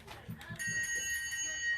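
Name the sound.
bell ringing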